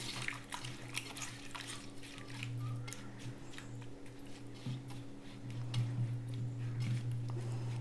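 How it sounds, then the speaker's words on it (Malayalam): Hands mixing sardine curry ingredients for a Kerala fish curry in a bowl, giving soft, wet squishing and sloshing at close range under a steady low hum, with no talk. "നല്ല കൈ കൊണ്ട് മിക്സ് ആക്കുക."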